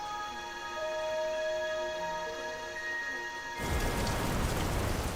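Steady tropical rainforest rain hisses quietly under a layer of high, tonal insect or frog calls, then a denser, louder downpour washes over everything near the end; no voices.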